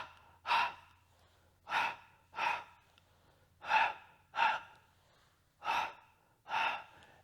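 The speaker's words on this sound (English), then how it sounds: "All percussion breath, I forgot that." Sharp percussive exhalations during a Pilates exercise: seven short, forceful breaths puffed out close to the microphone at an uneven rhythm, each standing alone against quiet.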